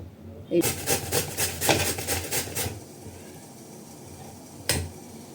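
Pumpkin rubbed against a carrot grater in a kitchen, a run of quick rasping scrapes in steady rhythm, close and moderately loud, then a quieter stretch ending with one sharp knock.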